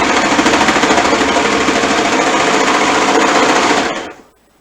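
A sewing machine runs steadily for about four seconds, stitching fabric in a fast, even mechanical whir that stops abruptly, leaving near silence.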